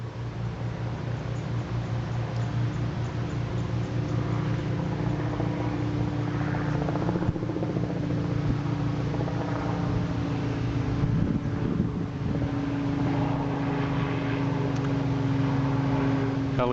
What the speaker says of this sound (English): Helicopters still flying around,